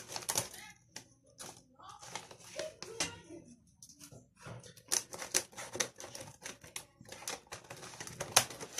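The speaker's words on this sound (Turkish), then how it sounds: "Bu şekilde ortadan ikiye bölün. Makasla kesin." Clean scissors snip through thin güllaç pastry sheets, cutting them in half. The dry cuts come in quick clusters and are fairly faint, with a soft voice in the background.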